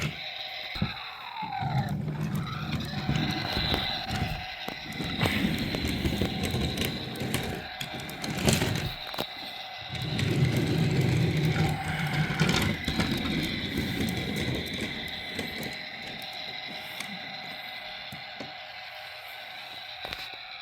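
Mechanical whirring and rattling from a small Brio 33513 Metro Railway Set toy train engine, running steadily for the whole stretch with a few louder clicks and bumps along the way.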